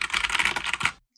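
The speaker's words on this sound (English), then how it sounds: "that right there is what a really bad, horrible, cheap keyboard sounds like" Rapid typing on a cheap, poor-quality computer keyboard, a close, loud flurry of clattering keystrokes that stops abruptly into silence.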